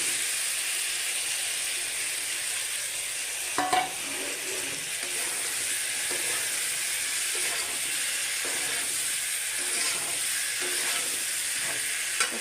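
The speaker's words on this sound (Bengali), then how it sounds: "কচুরমুখী দিয়া একটু ভাজুন," Taro corms (kachur mukhi) fry in hot spiced oil in a pan, giving a steady close sizzle and hiss. A few stirring clatters break through now and then.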